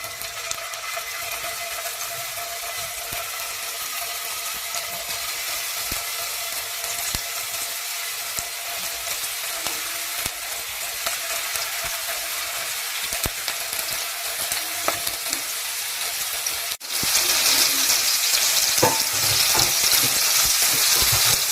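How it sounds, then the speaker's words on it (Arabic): Dawood Basha kofta balls fry in hot oil with a steady, close crackling sizzle that holds throughout, growing noticeably louder and brighter near the end as more meatballs go in. "عقبال ما الزيت يسخن واقوم نازله بالكور بتاعتي بتاعت كفته داوود باشا"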